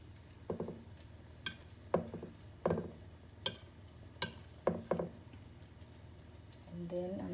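Egg-dipped bread slices for French toast cooking in a hot pan on medium heat, with a faint low sizzle and a series of sharp clicks and scrapes from the pan and utensil, all quiet and close.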